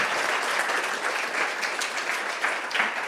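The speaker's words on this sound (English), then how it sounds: "Would you mind giving a round of applause to the people who put this together?" Audience applauding the event organisers at a Q&A session, a steady dense patter of many hands clapping close by throughout, with no talking over it.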